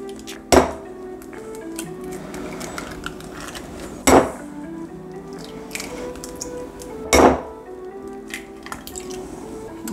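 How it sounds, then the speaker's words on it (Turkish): Eggs cracked one at a time into a bowl for an omelette, three sharp close taps spaced a few seconds apart over a quiet kitchen background. "Yumurtalarımı bir kabın içine kırıyorum."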